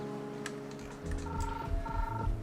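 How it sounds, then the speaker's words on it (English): In Jurassic World Evolution 2, a ringtone-like alert chimes as two short repeated electronic tones over a low game hum, faint and brief. "The ringtone."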